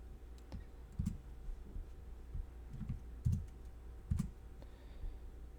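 Keys clacking on a computer keyboard while entering a shell alias in a text editor, light irregular taps and short clusters of strokes at close range, with no talking.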